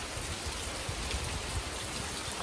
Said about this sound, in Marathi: भरपूर पाऊस पडतोय